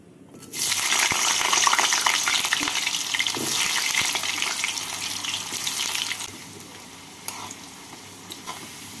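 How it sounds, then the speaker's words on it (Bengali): Potatoes fry in hot mustard oil in a kadai on a gas stove, giving a loud, dense, steady sizzle that starts abruptly and carries on for several seconds before easing off, with a few small clinks near the end. "তেলটাকে গরম করে নিয়ে প্রথমে আলুগুলোকে ভেজে তুলে নেব।"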